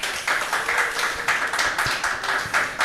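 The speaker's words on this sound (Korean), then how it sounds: "자, 박수 한번 쳐주시고." A Korean church youth worship audience claps to welcome a student debuting as the praise team's drummer, sounding as close, bright bursts of hand claps that pulse in a quick, uneven rhythm.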